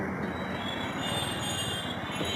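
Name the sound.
train running on rails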